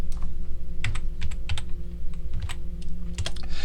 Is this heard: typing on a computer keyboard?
yes